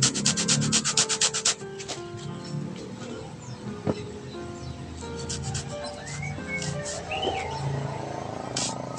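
Motorcycle seat material cut slowly by hand at home, giving close, steady rubbing and scraping strokes with a few sharper snips, while faint bird chirps sound in the background.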